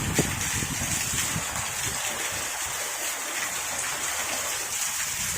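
Heavy rain pours down steadily in Madurai, a dense close wash of water hitting surfaces with no break.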